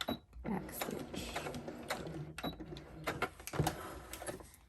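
A sewing machine back stitching on a bridesmaid dress runs in a steady close mechanical whir with rhythmic ticking and clacking bursts throughout.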